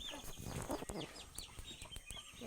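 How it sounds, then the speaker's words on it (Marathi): Broiler and village chickens cluck and squawk in a busy, scattered chorus, fairly faint, with rustling and knocking noises mixed in. "आपल्या कोंबड्या बॉयलर आणि गावठी घेतले"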